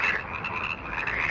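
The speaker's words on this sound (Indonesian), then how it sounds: "Allah ngirim ke kodok-kodok ke seluruh Mesir." A dense chorus of frogs croaks continuously, a loud steady mass of overlapping calls with no voices; the frogs swarm across Egypt in a retelling of the biblical plague.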